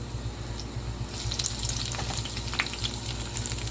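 Turkey mince sizzling and frying in a pan, with a steady hiss and crackle over low hum, brightening and busier after the first second, with faint clinks of stirring.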